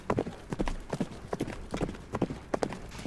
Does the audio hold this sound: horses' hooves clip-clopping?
yes